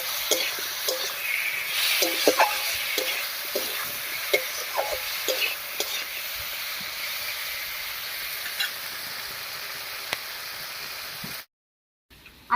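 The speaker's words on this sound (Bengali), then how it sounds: "এবার সব কিছুর সঙ্গে আলুটা একটু কষিয়ে নেব আমি" Fried potatoes are sautéed with spices, tomato and green chilies in a pan for a village-style dish, giving a steady bright sizzle with frequent stirring scrapes and clacks, close and fairly loud, ending in a brief silence.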